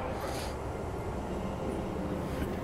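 A city train in the Star Citizen video game rumbles steadily throughout, a continuous loud broadband roar of moving rail cars heard from close by, with no clear breaks or distinct events.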